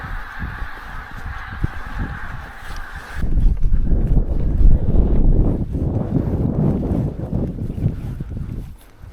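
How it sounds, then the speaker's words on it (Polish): Strong wind blows across a gravel pit lake at Złotowo during a spinning fishing competition: low, rumbling gusts buffet the microphone and swell louder after a few seconds, with honking bird calls early on. "ale dziś strasznie wieje"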